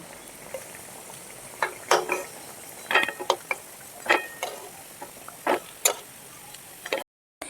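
Fried chitrakut sweets being lifted out of a pan of hot oil: a soft frying hiss underneath, broken by a series of sharp clinks and scraping knocks from the utensil against the pan, irregularly spaced and close by.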